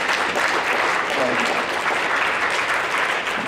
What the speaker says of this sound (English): give a great round of applause for our music department